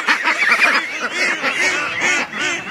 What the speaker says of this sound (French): Ici il y a mes oies de Rosse.